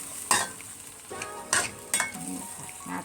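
Pork marinated and stir-fried in a small pan, now dry-roasting with the gas off, gives a soft, quiet sizzle broken by several sharp scrapes and clanks of a utensil stirring against the metal.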